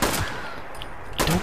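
Gunfire from a gun in the video game Fallout 76: two loud bursts of shots, one at the start and another near the end, with a quieter stretch between.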